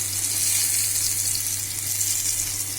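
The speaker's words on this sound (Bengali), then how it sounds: "এই পাশ আমার ভাজা হয়ে গেল।" Taro pieces frying in oil in a pan for a prawn curry, a steady close sizzle with a fine bubbling crackle over a low constant hum, with no voices.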